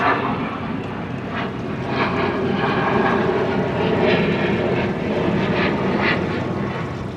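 A loud, steady military aircraft engine roar fills the whole stretch, droning overhead without letting up and with no voices, over a bay in Destin, Florida.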